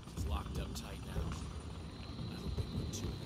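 A helicopter in Quantum Break drones with a steady rotor chop under ongoing conversation, the engine hum held at a moderate distance throughout.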